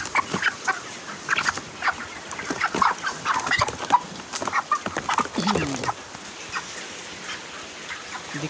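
Several 33-day-old broiler chickens cluck and squawk in busy, overlapping bursts throughout while being weighed together on a scale. A faint voice is heard briefly underneath.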